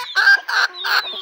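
Chickens cluck while pecking at feed given to keep them from winter illness. There are three close, loud bursts of clucking in quick succession.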